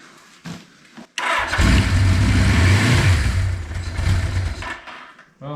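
An old Suzuki engine, run on the choke, cranks with a few short attempts, then catches and roars into a loud, rough running note that wavers in pitch before easing slightly.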